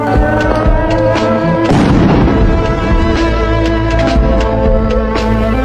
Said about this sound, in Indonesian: seorang tentara Israel melemparkan granat kecut ke dalam masjid